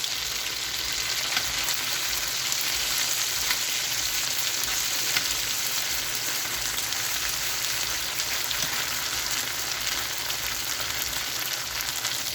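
Food frying and crisping up in a pan, a steady, dense hiss and crackle of sizzling oil, close and continuous with no voices.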